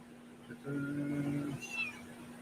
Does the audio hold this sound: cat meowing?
yes